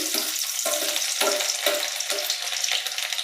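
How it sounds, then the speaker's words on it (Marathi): Cumin seeds and garlic drop into hot oil for a Gujarati sev tomato curry, crackling in a loud continuous sizzle with rhythmic stirring scrapes, close by and without speech. "तेल गरम झालं आहे। मी हे टाकत आहे जिरं"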